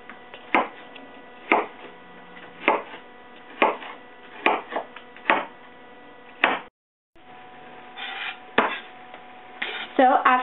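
Onions being chopped with a knife on a board, about a dozen sharp, evenly spaced close thuds with a brief pause partway, set against a faint steady hum.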